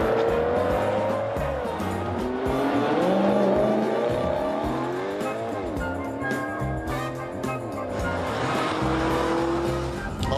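A Maserati with a Ferrari-derived engine revs and pulls through gears, rising and falling in pitch with a smooth drone, tires faintly squealing at times.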